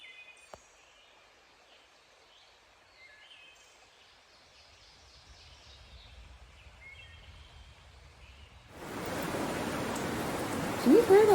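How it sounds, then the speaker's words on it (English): Rain falls outside at an off-grid home before a possible thunderstorm, starting as a faint patter with distant birds, then swelling into a heavy, steady downpour. "Can you hear that rain?"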